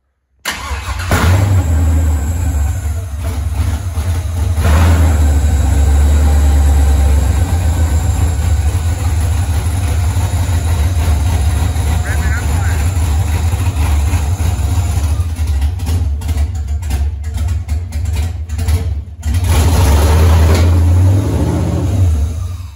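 A 5.3 LS V8 engine with open headers starting for the first time: after a brief silence it catches and settles into a loud, steady, deep idle that rumbles on without a break, close by.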